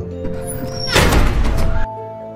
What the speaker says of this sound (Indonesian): pintu yang tampak menutup dengan sendirinya